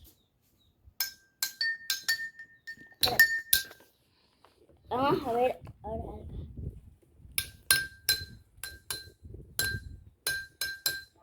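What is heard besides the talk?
drinking glasses being struck to compare their pitch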